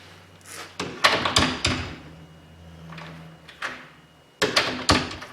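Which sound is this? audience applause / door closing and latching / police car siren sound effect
door closing and latching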